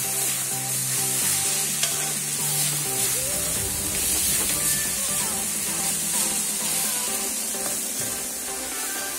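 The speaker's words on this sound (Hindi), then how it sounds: "इसमें काजू किशमिश भी देके ये हम फ्राई कर रहे हैं।" Cashews and raisins fry in a pan with a steady, close sizzle and hiss, broken by occasional stirring scrapes of a utensil against the pan.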